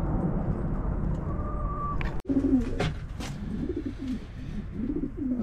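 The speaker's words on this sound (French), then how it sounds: "ici ce sont les pigeons reproducteurs" Breeding pigeons in a poultry-yard loft coo softly in low, rolling phrases, with a brief sharp click partway through and a steady background hum underneath.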